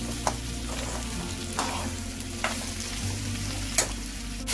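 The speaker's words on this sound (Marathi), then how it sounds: "मऊ होईपर्यंत कांदा भाजायचा आहे." Onion frying in a pan until soft for a Maharashtrian suran and prawn masala curry, a steady close sizzle with a few sharp scraping stir strokes spaced through it and no voices.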